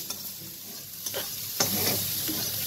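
Small chuno fish frying with green tomato in a pan, a soft steady sizzle broken by a few sharp stirring scrapes and clicks, fairly quiet and close, no talking.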